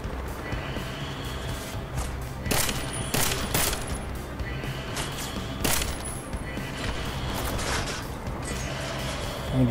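Rapid bursts of gunfire from the video game Deus Ex: Mankind Divided, several loud volleys with sharp crack-like shots over a steady game background, with a brief voice near the start.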